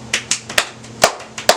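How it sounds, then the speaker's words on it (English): A handful of sharp, separate claps, roughly six spaced irregularly over under two seconds, sounding close and sparse like one or two people clapping, with a faint low hum behind them. "So, round of applause."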